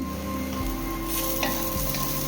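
Bitter gourd stir-fried in a pan for a home-cooked lunch, a steady close sizzle of frying with faint scraping as the pieces are kept moving, no voices.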